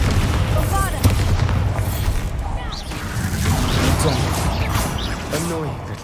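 Bombarda spell going off in the Hogwarts Legacy video game during combat: a loud booming blast with crashing, whooshing debris over a dense game soundtrack, with brief creature squeals and voices around it.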